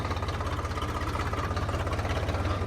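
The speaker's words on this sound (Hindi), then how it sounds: "अब रोटर चलाते हैं, पाउडर बनाते हैं इसका।" A tractor engine runs at a steady, low, rhythmic chug while driving a rotavator in a field, holding an even, close drone throughout with no voices.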